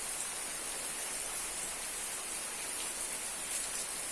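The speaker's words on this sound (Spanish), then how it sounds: "Les habla Enrique Vargas en esta tarde finalmente lluviosa. Está lloviendo." Steady rain falling on an afternoon in Xalapa, a dense, even hiss that stays constant throughout with no gaps, moderately loud, and nobody talking.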